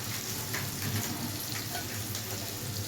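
Spice masala for a Barishal-style aar fish curry fries over a low flame, giving a steady, even sizzle with soft crackles and occasional stirring, close and moderately quiet with no voices.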